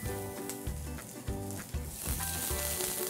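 Chili pepper, ginger and garlic hit hot oil in a wok for kung pao chicken, producing a strong, steady sizzle with quick stirring scrapes at regular intervals, close and fairly loud.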